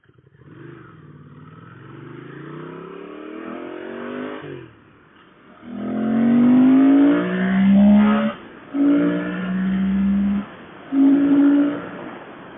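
A 1997 Ducati Monster 900 with a Dynojet kit blips its engine in sharp rising revs on each downshift, several loud bursts in a row under wind rush while riding.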